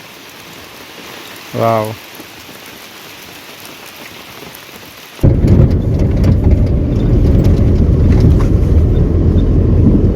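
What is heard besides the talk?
heavy rain with thunder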